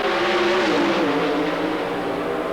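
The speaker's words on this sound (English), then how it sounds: "A close race as the Dodge pulls ahead at the finish line." A Dodge Daytona pro stock drag car racing toward the finish line at the 1992 NHRA Fram Southern Nationals in Atlanta, its engine a loud, sustained roar with a slightly dropping pitch and nobody talking.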